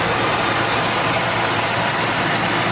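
A 1973 Chevy Nova engine idling smoothly after twenty years off the road, a steady low rumble with broadband hiss, constant and fairly close, no voices.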